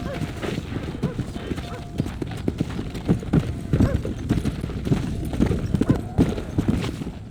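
Horse hooves clip-clop steadily at a trot in the video game Red Dead Redemption, under background noise and faint voices, with an occasional whinny.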